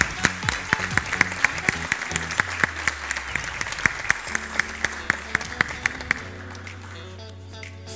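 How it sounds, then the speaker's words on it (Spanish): An audience applauds a child at a kindergarten graduation ceremony, with sustained clapping from a crowd and background music with a steady beat underneath that carries on as the clapping thins toward the end. "Un aplauso grande para Julián."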